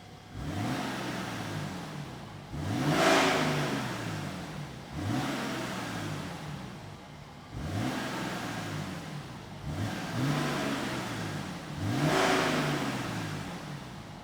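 A car engine with a custom 3-inch DPF delete downpipe revs repeatedly, each blip rising sharply and then falling away, about five times in a steady rhythm. The sound is loud and close, with no talking.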